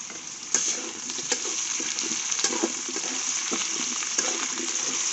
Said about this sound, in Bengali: আলু পেঁয়াজটা ভালো করে ভেজে নিয়েছি